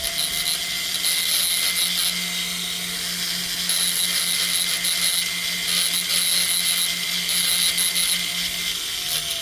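A power tool grinding off a tiny spot of material, with a steady high-pitched whine and a continuous hum that run unbroken and fairly loud the whole time, with no talking.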